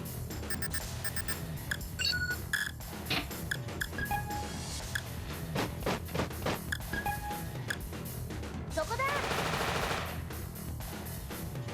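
Tank gunfire in the turn-based video game War of the Human Tanks plays as repeated sharp bursts and shots, mixed with electronic beeps and game effects, without talk.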